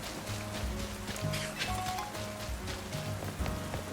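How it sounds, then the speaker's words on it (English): Steady rain patters in the video game Pokémon Legends Z-A, under layered game music with sustained tones and low pulses, a constant wash of hiss throughout. "So it's still gonna be raining."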